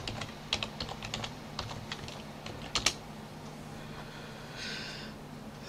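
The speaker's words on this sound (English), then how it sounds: "You need to type the password." A password typed on a computer keyboard while shutting down an Ubuntu 17.04 server gives a quick run of soft, close key taps followed by a heavier pair of strokes, then a quiet pause over a low background hum.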